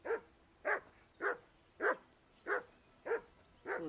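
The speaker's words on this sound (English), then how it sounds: "That barking was a pain in the ass." A dog barks seven times in an even, repeated rhythm, each bark short and moderately close, with quiet pauses between them.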